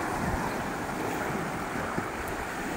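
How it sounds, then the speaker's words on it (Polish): Rough, churning sea surf breaks at a beach beside a waterfront promenade, a steady, fairly loud wash of waves mixed with gusting wind noise on the microphone. "Strasznie wzburzone morze jest w tym miejscu."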